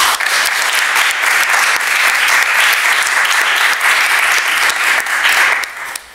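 Loud, dense audience applause at a French pleading competition semifinal, sustained evenly for several seconds before fading at the end.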